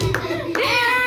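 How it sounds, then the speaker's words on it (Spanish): Hands clapping at a child's second birthday party, a couple of sharp claps heard close up over a faint sustained tone in the background. "¡Aplausos!"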